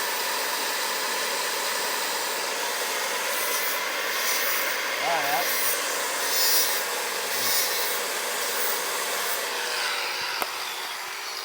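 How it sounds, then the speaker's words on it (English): Grinding wheel sharpening a tungsten welding electrode, a steady close whirring hiss that runs the whole time with faint voices underneath. "Whenever you're sharpening tungsten like this, there's like a little draft down here that the wheel creates"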